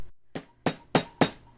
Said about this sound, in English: remember, just go hammer it.